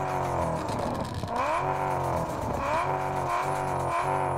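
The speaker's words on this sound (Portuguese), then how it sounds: "Agora vamos ver o barulho do V8" A V8 car engine in the Car Parking Multiplayer video game revs steadily, its pitch rising and falling in repeated sweeps, loud and continuous with no pauses.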